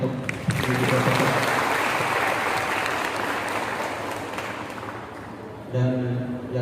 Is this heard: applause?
yes